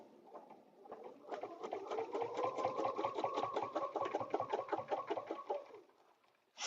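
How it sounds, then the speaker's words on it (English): A sewing machine stitching fabric for a butterfly paper-piecing dresser scarf, running in a fast, even stream of close mechanical clicks for several seconds before it stops, with a brief sound at the very end. "I'm going to stitch."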